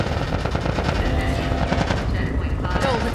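Soldiers firing guns in The Last of Us, dense rapid automatic bursts rattling loudly and continuously amid a chaotic battle, with shouting voices mixed in.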